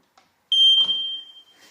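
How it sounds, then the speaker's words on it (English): A smoke alarm being tested: a loud, piercing electronic alarm tone sounds once, holding steady for about a second before cutting off, with faint rustling after it. "I'm just going to test the smoke alarm."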